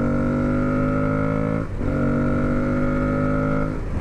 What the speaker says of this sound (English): The airbox noise.